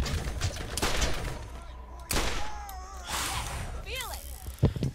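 Pistol shots in Borderlands, a few sharp cracks over dense game noise and background sounds, with a voice present.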